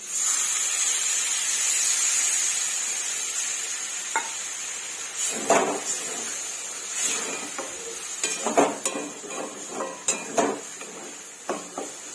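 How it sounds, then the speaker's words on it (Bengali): Water poured into a hot pan of frying potatoes brings a steady hiss of steam for several seconds, fading into scattered clinks and scrapes of a utensil against the pan, with no talking. "পরিমাণ মতন জল দিয়ে দিলাম"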